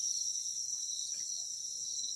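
Crickets chirp in a dense, steady, high-pitched trill that runs unbroken and fairly loud throughout, with no other sound present.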